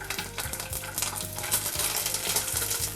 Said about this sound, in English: All right, I think our oil is pretty hot here. We're going to get our asparagus in the pan.